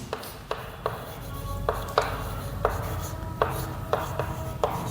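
Writing on a board during a lesson on valency and valence electrons: a series of about ten sharp taps and scratchy strokes in a fairly regular rhythm over a low room hum.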